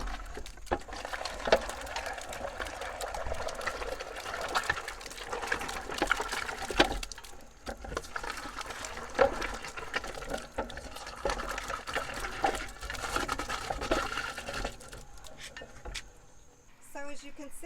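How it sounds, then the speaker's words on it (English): Tomato juice trickles out through the netting of a hand-cranked grinder as tomatoes are ground for a vintage herb soup, a steady wet dribbling and squishing that runs continuously with scattered small clicks. "the juice is just trickling out there as the tomatoes were going through the grinder"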